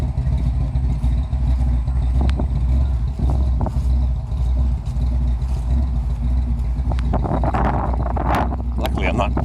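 A cold Chevrolet 409 V8 rumbles with a deep, steady low throb beside a large chicken barn, while voices talk over it and clattering knocks pick up near the end.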